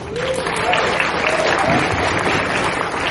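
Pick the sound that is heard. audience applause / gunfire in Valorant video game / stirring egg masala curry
audience applause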